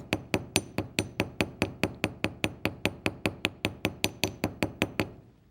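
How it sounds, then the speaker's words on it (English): Rapid, evenly spaced hammer taps flattening a piece of wire ring out about two dozen times in a steady rhythm, bright and close, then stop abruptly. "Once again, I will do a little hammering. A little more hammering this time."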